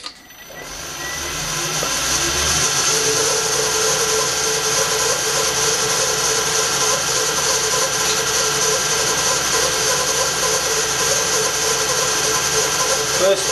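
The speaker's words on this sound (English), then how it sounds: "I am now ready to cut a mortise." A milling machine spins up and cuts a mortise in a wooden cannon wheel nave, its steady motor whine and grinding cutter noise rising within two seconds and then holding loud and close. A voice speaks briefly over it.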